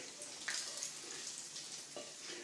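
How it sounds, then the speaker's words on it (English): Steady crackling sizzle of bacon frying in a pan, with faint clinks and a few brief scraping sounds, no talking. "time to get your bacon out and put it in the frying pan"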